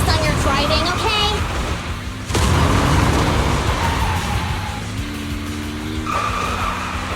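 A race car in the video game Zenless Zone Zero roars loudly with its engine pitch rising and shifting, while tires squeal and skid repeatedly, with voices heard alongside.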